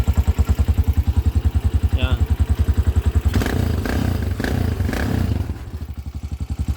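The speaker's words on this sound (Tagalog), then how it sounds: "Tapos may butas yung tambutso dito." Yamaha TMX125 motorcycle engine idling with a holed exhaust, giving a steady, loud, rapid thumping pulse that roughens midway as the revs lift slightly, with a brief spoken word near the start.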